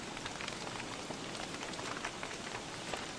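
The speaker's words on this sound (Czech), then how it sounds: "to pršení je pěkně nepříjemné" Steady rain falls in the survival video game Don't Starve, a dense, constant patter of drops on surfaces heard as a continuous hiss at moderate volume with no voices.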